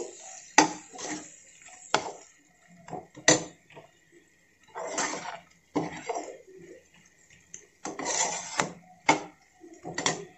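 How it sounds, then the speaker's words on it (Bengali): A spatula scrapes and stirs spice paste frying in a pan for a Bengali-style tangra fish curry, making irregular, close, rasping strokes with short pauses between them. "মশলাটাকে খুব ভালো করে আমি কষিয়ে নিচ্ছি"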